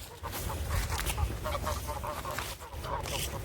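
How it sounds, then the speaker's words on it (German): Geese honking in a forest camp setting, a dense flock calling continuously with overlapping nasal honks at steady volume throughout. "Hier können wir schon mal super die Gänse sehen."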